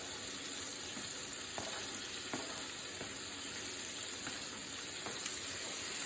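Onions frying in a pan, with a steady bright sizzle running throughout, close and loud. Occasional soft ticks and clinks from stirring can be heard.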